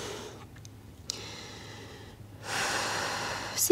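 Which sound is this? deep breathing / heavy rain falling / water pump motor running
deep breathing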